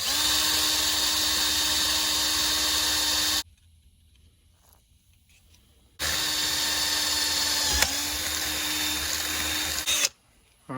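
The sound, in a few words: drilling out a tire carrier lock with lubricant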